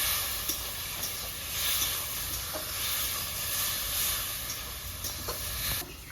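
Water splashed into frying spices for a meat curry sets off a constant close sizzling hiss dotted with small crackles and pops, continuing evenly throughout without speech.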